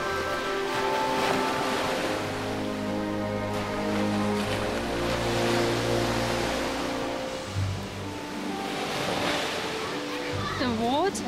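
Waves wash steadily onto the pebbly shore of Porto Katsiki beach on Lefkada, a continuous roaring surf with a soft, wind-blown wash throughout.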